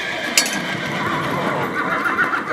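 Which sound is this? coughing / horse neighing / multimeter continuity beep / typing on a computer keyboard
horse neighing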